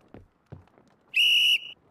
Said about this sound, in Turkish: Düdük'le beraber.